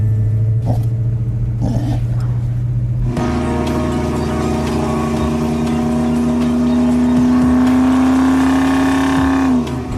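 A Chevrolet El Camino cruises along a road with a steady, loud engine drone and tire rumble close by, holding one even pitch before easing off near the end.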